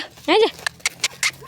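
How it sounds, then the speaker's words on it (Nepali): A dog on a hillside trail near a forest gives a short whining yelp, then a few quick faint clicks, all very close and brief. "गाइज मेरो कुकुर आइज"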